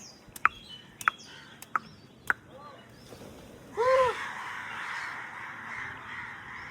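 Four sharp crow caws ring out at even intervals, followed by a longer honking bird call over a rising wash of background noise.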